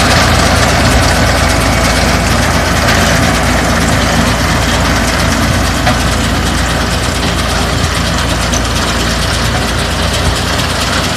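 A tractor-driven hay baler works in a field as its pick-up gathers grass, giving a loud, constant diesel engine drone with mechanical rumble and vibration from start to finish, with no voices.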